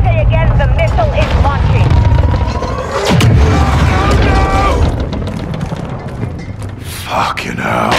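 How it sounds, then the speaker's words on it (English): A missile launching and exploding in Call of Duty Modern Warfare II, a deep boom rumbling under loud game sound and voices, followed by sharper bursts and crackles. "Missile is launching."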